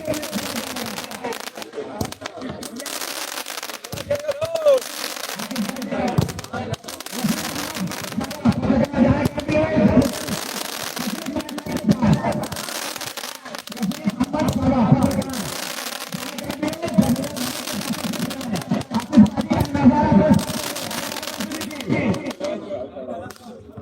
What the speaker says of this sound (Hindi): हमारे दस्तगिरी द्वारा आतिशबाजी का नजारा पेश करते हुए